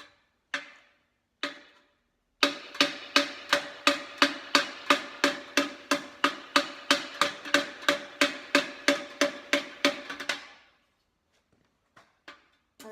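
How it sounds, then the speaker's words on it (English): A hammer pounds an iron handle on the inside of an old copper piece: about two dozen sharp, ringing metallic strikes in a steady, even rhythm, close and loud, with a few scattered taps before and after. "I'm hammering on the actual iron on the inside."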